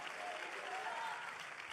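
A church congregation claps in applause, a brief steady patter of many hands heard from a distance, fairly faint.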